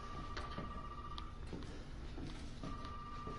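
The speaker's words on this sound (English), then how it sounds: "See how the phone rings?" A telephone rings inside the Resident Evil 7 demo, two bursts of electronic ringing separated by a pause, heard over a steady hum of in-game room ambience with no one talking.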